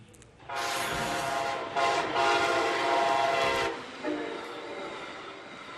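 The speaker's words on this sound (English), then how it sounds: "He actually wants Brightline trains to continue blowing their horns as they whip through his town." A Brightline passenger train sounds its horn while passing through a town, one long loud blast followed by a second sustained blast and a brief final toot, with faint rolling rail noise beneath.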